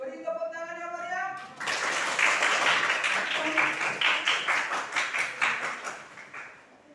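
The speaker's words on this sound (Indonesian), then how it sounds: "Beri tepuk tangan ya Maryam." Classroom applause for a student group, starting after a voice speaks, with brisk clapping by a small group that builds, holds for a few seconds, then slowly fades.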